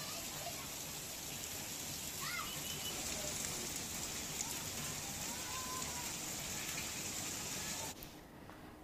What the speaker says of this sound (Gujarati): સિંહોર તાલુકાના દ્રશ્યો, જ્યાં બપોર બાદ વરસાદે મેઘમહેર વરસાવી છે.